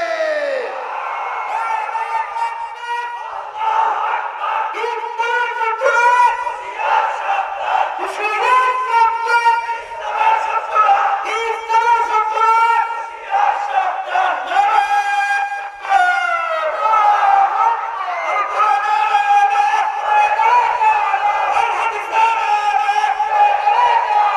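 A large crowd of men chants the takbir in unison at a religious gathering, loud sustained shouted voices rising and falling in repeated waves for a long stretch.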